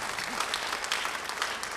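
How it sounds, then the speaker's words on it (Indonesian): A church congregation breaks into a brief, dense burst of applause, with steady clapping all the way through. "Beri tepuk tangan bagi dia."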